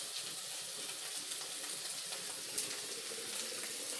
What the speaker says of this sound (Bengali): ওদিকে তরকারি ফুটে উঠেছে